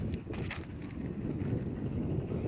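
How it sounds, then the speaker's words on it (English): Wind gusts steadily across an outdoor disc golf course at Blue Mountain during the Skylands Classic, a low, breathy rumble buffeting the microphone throughout with no voices. "The wind's picking up out here too."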